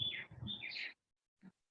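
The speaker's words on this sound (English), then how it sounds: "I do enjoy birdsong at the best of times, but not really when I'm trying to talk." Faint birdsong outdoors: a short run of high chirps and tweets, then a pause and one brief distant call, quiet and unaccompanied.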